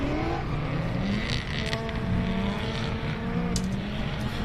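Drift cars roar off the line at a DriftWars event at Manfeild, their engines a broad, sustained rumble heard from a distance at moderate level, with no talk over it.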